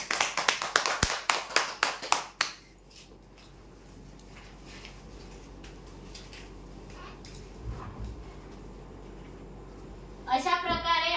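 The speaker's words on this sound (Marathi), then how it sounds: "जोरदार टाळ्या द्या." An audience claps loudly for a prize draw winner of a shoe rack, a burst of applause over the first two seconds, then a quiet room with faint murmurs and a voice at the end.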